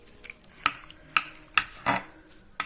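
A knife slices through stuffed roast turkey, giving a few sharp clinking strokes against the plate or board at irregular intervals, close and fairly quiet, with no talk.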